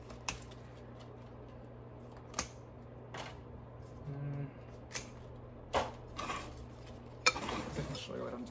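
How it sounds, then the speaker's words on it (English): Metal scissors snip crispy dry leaves off a houseplant, a Manjula pothos, in a series of short, sharp clicks spaced irregularly over quiet room tone, close and fairly soft. "Got my good handy scissors."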